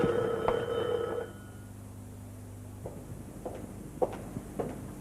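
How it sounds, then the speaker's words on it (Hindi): A telephone rings with steady tonal bursts during the first second or so, then stops, leaving a quiet room with a few soft knocks and footstep-like taps. "फोन बज रहा है"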